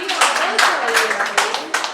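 A classroom group claps in quick, uneven bursts, fairly close, while someone talks over the clapping.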